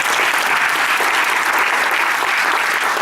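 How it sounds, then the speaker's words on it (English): Sustained audience applause for a group of college trustees, dense and steady throughout, loud and close with no talking over it. "Give them another applause."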